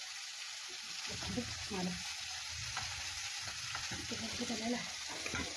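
Fish and onions frying in a pan, a continuous soft sizzle with occasional stirring scrapes and clinks, heard close throughout.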